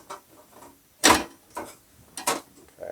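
A screw is driven in to mount a dash bezel on a custom metal-shaped sports car interior, heard as a few short, sharp mechanical clicks and creaks, close and quiet with gaps between them.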